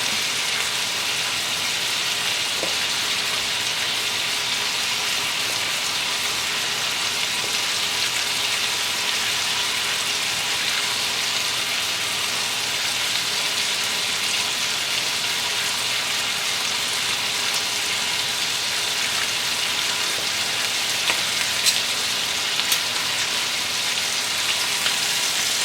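Pork medallions with thyme searing in a pan over about three-quarter heat, a steady, dense sizzle and crackle that holds evenly throughout, close and fairly loud, with no talking.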